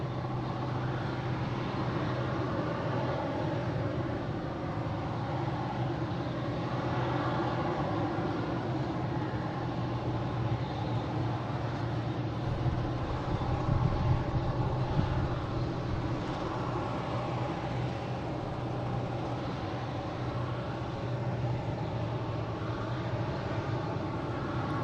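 An American Airlines Airbus A321neo jet departing Boston Logan International Airport on its way to Phoenix, giving a steady, broad engine roar that holds at a fairly constant level throughout, with no voices.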